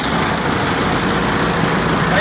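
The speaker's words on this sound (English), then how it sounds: "So I'm gonna start the engine up, it's gonna get kind of loud." A truck engine idles with a loud, steady, unbroken rumble close by.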